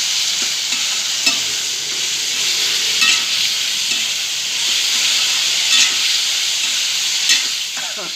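Masala cauliflower roasting in a pan sizzles steadily and close by, with a few sharp scrapes and clinks of stirring breaking through the continuous frying hiss.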